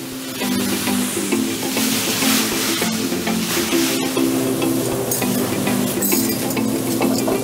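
Lomo saltado tossed in a wok over high flame, a loud continuous sizzle and roar with occasional metallic scrapes and clinks.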